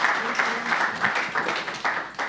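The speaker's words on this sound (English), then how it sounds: "we all need to applaud her" A panel discussion audience at 1 Hotel breaks into applause: steady, moderately loud clapping from a room of people that swells and eases in short waves over a couple of seconds.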